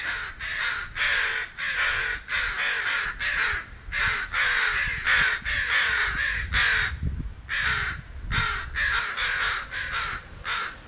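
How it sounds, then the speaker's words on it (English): Angry crows caw over a penitentiary cemetery, with about twenty harsh calls in quick bursts and short gaps between them, loud and near against a quiet background. "I've got some angry crows up here who don't appear to be happy to have visitors."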